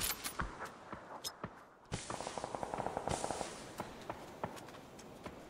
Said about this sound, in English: No way that guy's shooting.